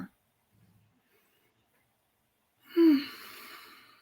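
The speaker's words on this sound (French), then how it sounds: "prendre quelques bonnes grandes respirations profondes" A single deep breath drawn in and let out during a guided mindfulness relaxation, heard once near the end as a soft, close inhale-exhale after a long quiet stretch.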